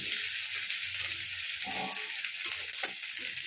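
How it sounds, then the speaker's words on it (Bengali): Ginger, garlic and green chillies frying in a pan give a steady close sizzle throughout, with a few soft stirring clunks and scrapes breaking through. "এখানে একটু আমি আদা, একটু রসুন, কটা কাঁচা লঙ্কা, এটাকে আগে ভেজে নেবো।"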